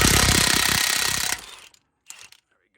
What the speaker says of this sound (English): Here's a 32mm socket with an impact gun